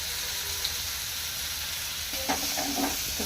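Vegetables frying in a pan with turmeric while making a millet dosa side dish, a steady close sizzle and hiss with a few scraping stirs toward the end.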